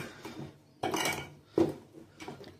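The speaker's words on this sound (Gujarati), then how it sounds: "અને હવે ચમચાથી આ ઉપરનું બી હું સાફ કરી દઈશ એટલે ડાયરેક્ટ સીધું વોશ થઈ જાય" Metal spoon scraping and knocking inside a blender jar during cleaning, a few sharp clinks and scrapes with quiet gaps between them, close by.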